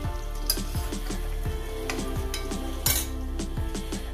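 Jackfruit pieces fry in hot oil in a pan with a steady crackling sizzle, while a metal spoon stirs and clinks against the pan several times. Nobody speaks.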